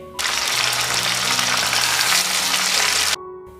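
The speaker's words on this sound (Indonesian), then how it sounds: "ini akan kita goreng sampai cabai dan juga tomatnya layu" Dried and fresh red chilies, bird's eye chilies, candlenuts and tomato fry loudly in hot oil for sambal terasi, a steady dense sizzle running about three seconds before cutting off abruptly.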